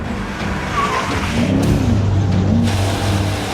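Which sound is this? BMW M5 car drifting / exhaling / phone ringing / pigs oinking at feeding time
BMW M5 car drifting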